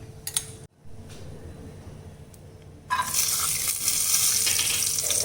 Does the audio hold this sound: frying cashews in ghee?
yes